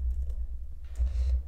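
Fingers tap out text on a computer keyboard in quick, light clicks, a short close burst of typing with a brief pause in the middle.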